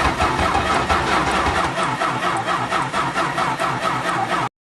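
A car engine cranks slowly and fails to catch, giving a loud, steady, rhythmic churn for about four and a half seconds before cutting off abruptly.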